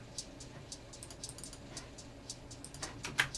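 Two layered hi-hats programmed in Battery 4, a crisp brighter one over a quieter second: a sparse, syncopated run of short ticking hits, fairly soft and close, with one sharper accent near the end.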